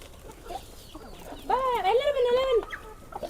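Farm-bred chickens kept at home give a drawn-out, wavering clucking call for about a second, close and fairly loud amid low background noise.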